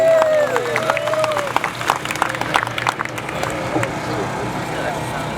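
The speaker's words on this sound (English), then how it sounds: "can we please give him a round of applause?" Audience applause for a helper named Steve at a small gathering, steady clapping from a crowd mixed with scattered cheers and voices, fairly close and continuous throughout.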